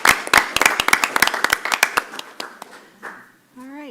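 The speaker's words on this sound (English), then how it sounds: "One more round of applause for our..." A board of education meeting audience gives a scattered round of clapping that thins out over a few seconds, and a voice starts talking just as it ends.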